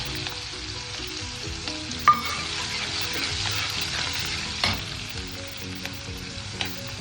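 Onions frying in oil in a pan for a Karnataka-style brinjal palya, a steady soft sizzle broken by a few sharp clicks of a spoon stirring against the pan.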